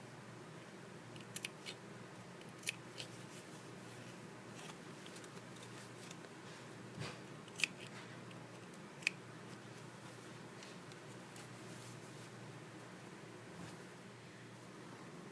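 Scissors snipping fabric while sewing doll clothes for a 14.5 inch doll, a few faint, scattered clicks and snips spread sparsely over quiet room tone.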